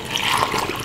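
Water pours into a blender jar while a courgette smoothie is being made, giving a brief, steady splashing rush that lasts just under a second with no voices.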